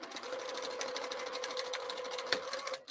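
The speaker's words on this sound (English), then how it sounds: "And I'm just going to sew those" Sewing machine stitching the exterior seam of a bowler bag, a steady fast whirring run of needle strokes that holds close and even for nearly three seconds before stopping abruptly.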